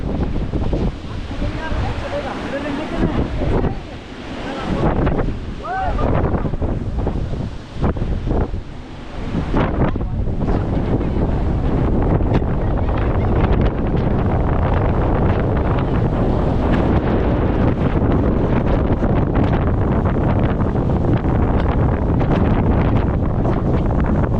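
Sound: large waterfall fed by Charlotte Lake, Matheran

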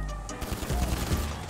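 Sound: gunfire in video game GTA 5

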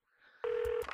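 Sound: phone dialing in Saints Row: The Third video game

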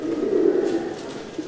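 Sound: Portuguese pigeons cooing

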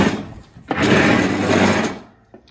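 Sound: Cub Cadet XT1 mower deck being pulled out

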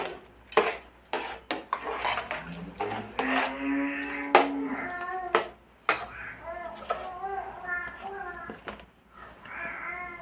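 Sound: mixing hot rice in a pot for curd rice

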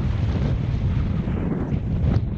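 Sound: wind on a mountain hillside

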